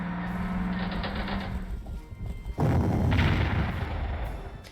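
Artillery firing in the video game Panzer Corps, a softer muffled shot early, then a loud booming blast with a rumbling tail that lingers to the end.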